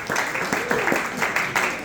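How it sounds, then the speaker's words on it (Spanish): A church congregation clapping together at a service, a steady patter of many hands with a speaking voice over it. "Dale palmas, Carlito."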